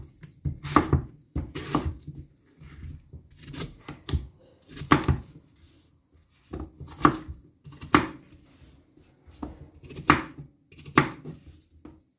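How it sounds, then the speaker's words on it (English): A green apple being sliced with a knife on a cutting board: a dozen or so crisp chops in an uneven rhythm, close and clear, with short pauses between strokes and no talking. "this green apple, I'm going to slice it now."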